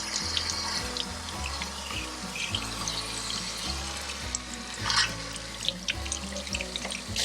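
Water gushes out of an RV water heater tank with calcium sediment in a steady, continuous splashing rush, with low rhythmic thumps repeating underneath.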